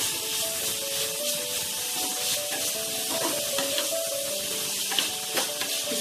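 Beetroot and golden peas stirred in a frying pan, giving a steady close sizzle and hiss with scraping stir strokes over it, continuous and without talk.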